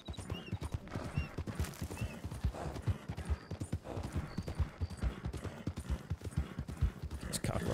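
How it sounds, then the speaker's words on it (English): Horse hooves in Red Dead Redemption 2 roleplay, a steady rapid clip-clop of a ridden horse up close throughout, with someone talking over it. "Let's get off my horse."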